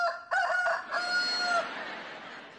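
A rooster crows loudly and close, a rising then long drawn-out call with a brief stutter, fading into quiet afterward.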